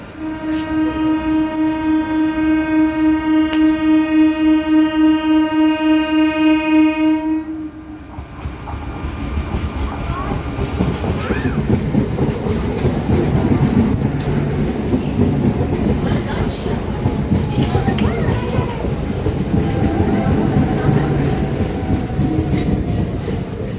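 A train at Bargachhia station sounds a long, loud horn blast, then rumbles past with rattling and clattering wheels that continue steadily for many seconds, close by.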